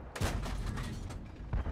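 Bursts of tank gunfire in World of Tanks, several sharp low booms separated by rumbling tails, fairly faint, with no one talking.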